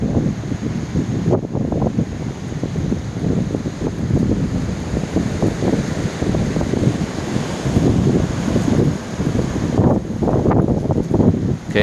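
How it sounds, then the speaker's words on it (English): Strong outdoor wind buffets the microphone, producing loud continuous rumbling and gusting noise that swells and dips for about twelve seconds, with no voices. "So if you wondered what all the wind noise was in the background"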